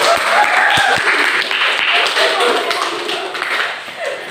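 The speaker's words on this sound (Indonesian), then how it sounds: "beri aplaus untuk kelompok" A classroom group in a teaching practice exam gets applause from fellow students, a dense, steady patter of clapping filling the whole stretch, with a few scattered voices underneath.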